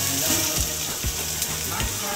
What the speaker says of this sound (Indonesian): Kita oseng-oseng sampai warnanya kecoklatan.